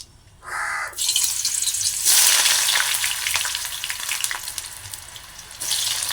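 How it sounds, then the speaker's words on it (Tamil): Eggplant pieces sizzle loudly in hot oil, a dense continuous crackle that swells and settles, with no voices. "எல்லா கத்திரிக்காயும் தான் முதல்ல அதான் போட்டு பொறிக்க போகிறேன்"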